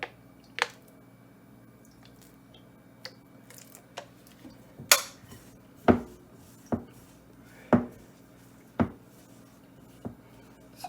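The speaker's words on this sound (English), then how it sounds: "So right now we are just mixing, not kneading." Coconut gizzada pastry dough is mixed by hand in a bowl, giving about a dozen soft, irregular squishes and dull pats against a quiet background.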